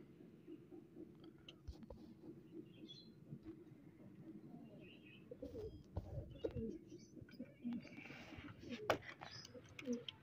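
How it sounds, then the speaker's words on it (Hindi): Soft pigeon cooing drifts through a quiet aviary in Pakistan, low and faint with occasional small bird chirps and rustles, the murmur growing slightly busier toward the end. "और ये वाला कबूतर जो है रोज़ यहाँ पे जब भी खोलो ना इधर बैठा होता है"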